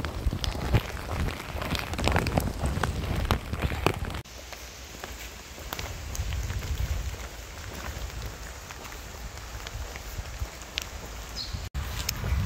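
Rain patters steadily on a rain cape as a hiker walks between mountain villages, a dense hiss throughout that is heavier in the first few seconds, then softer but continuous.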